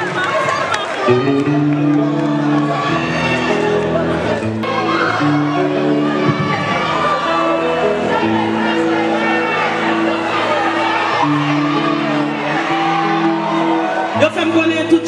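Concert crowd at a year-end 2018 show, shouting and whooping continuously and loudly over sustained music, with cheering rising throughout.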